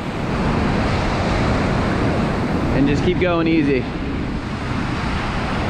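Ocean surf breaks and rushes steadily onto a beach during surf fishing, a loud continuous wash with wind buffeting the microphone, while a man gives brief instructions over it.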